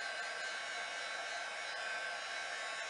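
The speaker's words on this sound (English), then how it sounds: "putting the heat onto the stamped image, and then you'll watch it when it starts to work and set that powder and emboss it" A heat embossing tool blows steadily over embossing powder on a stamped Christmas card, a continuous close, even hiss of hot air with no talking.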